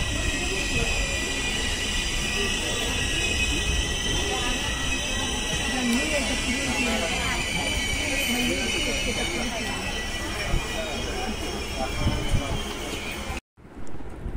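A train stands halted at Gutti (Gooty) railway station, a steady, loud broadband rumble of idling carriages and platform bustle filling the whole stretch, with voices mixed in, then a sudden brief dropout near the end.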